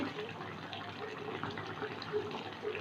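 Ghee is poured into a pot of ash gourd curry, making a soft, steady liquid trickle that stays faint and close, with no speech over it.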